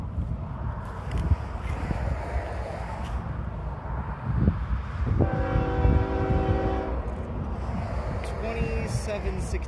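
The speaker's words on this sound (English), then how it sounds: "Here comes this westbound loaded ash train pulling up into Nampa" A westbound loaded Union Pacific ash train led by a GEVO locomotive approaches Nampa, its rumble building over several seconds and then sounding a steady multi-tone horn blast from fairly close, with wind noise throughout.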